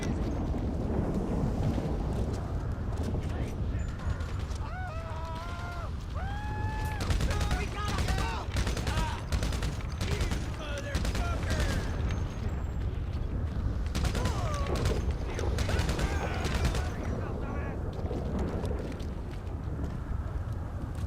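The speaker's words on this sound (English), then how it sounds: "start like firing the firework launcher on the ground" A firework launcher in GTA Online fires again and again, making loud blasts and crackling bursts with rising whistles over a dense, roaring game background, while someone talks.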